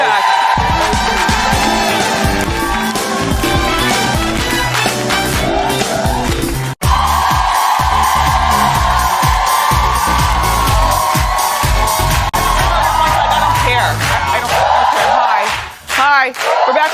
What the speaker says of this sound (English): Clap it up for Terry Crews